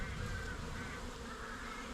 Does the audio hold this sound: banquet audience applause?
no